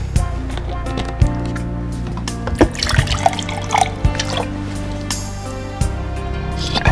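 Rainwater running from a tap into a cup, a close trickle with intermittent drips and clinks of the cup, fairly quiet and uneven.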